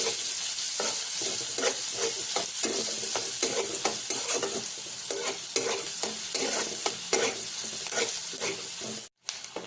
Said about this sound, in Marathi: कांदा चांगला भाजून घेऊया आपण कांदा चांगला भाजल्यानंतर आपण याच्यामध्ये मसाले ऍड करूया